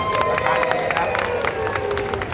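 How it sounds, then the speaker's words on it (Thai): Dense crowd applause at a press event, with scattered claps and cheers, loud and continuous over a brief stretch. "เอาปรบมือให้ลำไยหน่อย"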